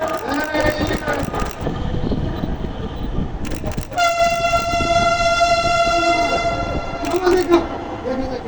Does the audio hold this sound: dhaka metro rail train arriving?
yes